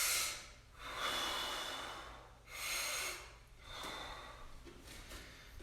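Deep belly breathing during an at-home karate exercise set: slow, audible inhales and exhales in long swells, close to the mic, with no talking.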